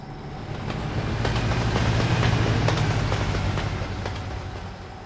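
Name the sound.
train going by in American Truck Simulator video game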